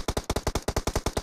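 Rapid automatic gunfire from a gun in Valorant, about a dozen evenly spaced loud shots in a steady burst, with no voice.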